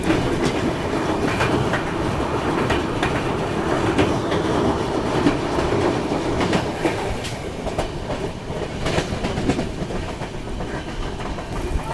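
A passenger train, the Vikramshila Express, rumbles steadily along the rails in heavy rain near Lakhisarai Junction, with rhythmic clickety-clack from the wheels, close and continuous, with no voices.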